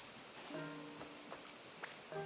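Rain in the video game Animal Crossing New Horizons, an even hiss of falling drops beneath soft sustained game music notes, with no voices.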